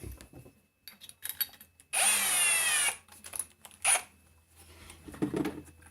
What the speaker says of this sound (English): then we get up in our drill, the drop tube